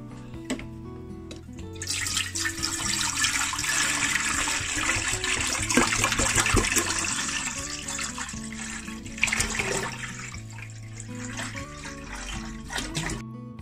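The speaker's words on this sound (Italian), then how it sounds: "Versato l'acqua, si riscalda" Water pours and splashes into a cooking pot, a steady, fairly loud stream running for most of the clip as the pot is filled to boil pork for Sicilian-style pork aspic, with a faint hum beneath.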